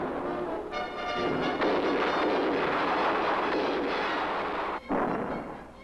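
Production munitions fire during acceptance testing at an Army proving ground. A heavy, rumbling roar swells and carries on for several seconds with a brief break near the end, sounding distant and reverberant.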